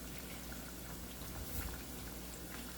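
Catfish frying in oil after the temperature has dropped, giving a steady, soft, even crackle and sizzle that runs without a break throughout, fairly quiet and alone with no talk.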